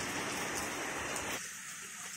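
Steady rain falls outside a shop counter, a dense hissing wash that is loud and even before abruptly dropping to a softer patter.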